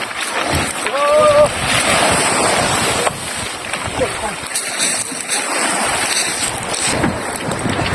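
A boat with a 19.5 Pro Quip engine out on calm sea, steady engine drone mixed with wind buffeting the microphone and splashing water, with brief voices in the background.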